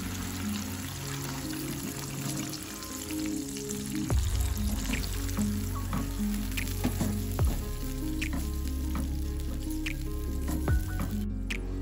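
Chilies and goat curry meat added to a pan with water, bubbling and sizzling steadily, with wet squishes and stirring clatters over the constant frying hiss, no voices.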